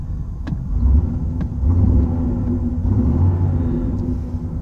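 A 1987 Camaro IROC-Z engine fires up and settles into a steady low rumbling idle, close and continuous, with no talk over it.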